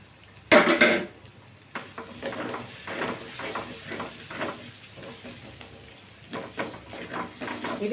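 Drumstick leaves fry in a hot pan and are stirred, with a sharp sizzle and clank at the start, then repeated scraping, stirring strokes over a steady crackling sizzle, fairly close.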